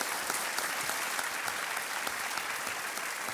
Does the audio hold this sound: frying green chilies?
no